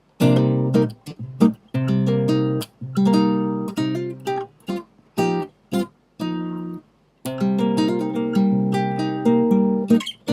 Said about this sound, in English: It's called a minor 7.